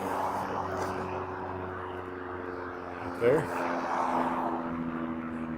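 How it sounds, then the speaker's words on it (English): A propeller airplane drones overhead during a city walk in Regina on a warm October day, a steady low hum in the background with someone speaking briefly over it. "And an airplane for good measure."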